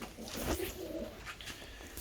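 Soft, low cooing from pigeons kept in a loft, a few rounded coo phrases close by at moderate volume with faint background noise and no talk.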